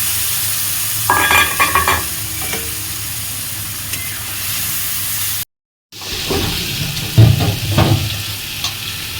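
Spices for a light fish curry with potato, green banana, ridge gourd and lentil dumplings fry and are stirred in a hot pan, a steady loud sizzle with scraping stirs, briefly cut off midway, then resuming.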